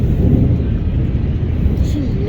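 Loud, deep rumbling thunder rolls continuously through a heavy rainstorm in Jhelum city, a broad low roar that fills the whole stretch.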